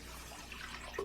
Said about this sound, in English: we're going to pour our water over the rice